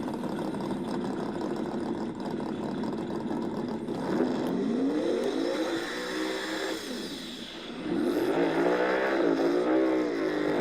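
A white Fox body Mustang launching in a no-prep drag race, engine roaring and revving with rising, sweeping pitch, a second surge of acceleration near the end, loud and sustained.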